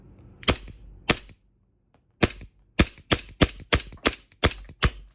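An indoor BB gun pistol fires in sharp, snappy cracks: two spaced shots, a pause, then a rapid string of about nine quick pops, each short and dry in a small room.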